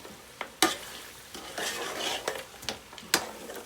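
Spices for a mutton and okra curry being stirred in a hot pan, with sizzling and frying beneath irregular scrapes and clinks of a utensil against the pot, close and fairly loud, no talking.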